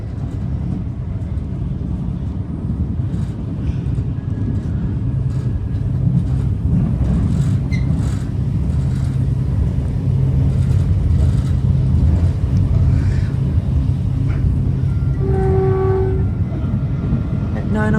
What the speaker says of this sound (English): here we are skipping through San Bruno Station